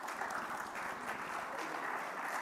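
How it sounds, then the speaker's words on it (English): Congress audience in Dubai applauds a speaker named Yuri, a soft, steady patter of many hands clapping at a distance, continuous and without voices. "Let's give a round of applause for Yuri"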